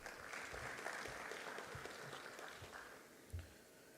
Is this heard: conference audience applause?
yes